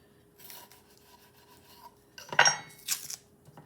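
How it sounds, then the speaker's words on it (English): A knife slices through cold butter for a Dutch baby pancake, two quiet scrapes and then a louder, crisp cut and clatter against a board, close by with no talking. "The first thing I'm going to do is cut 3 tablespoons of butter."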